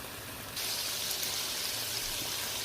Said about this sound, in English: when the sound comes like this, that means that the water is boiled out, and it's down back down to the grease